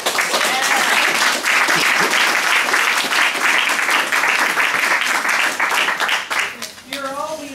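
Loud applause from an audience at a panel discussion on ending the New Jim Crow in Portland, steady clapping for about six seconds before thinning out, with a voice briefly starting to speak at the end.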